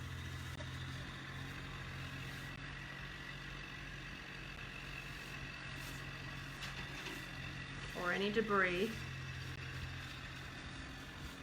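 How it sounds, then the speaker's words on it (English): Constant low tractor engine rumble from a yard in the background throughout, with a person speaking briefly and a short warbling squeal partway through. "He's got his toy tractor out playing in the yard."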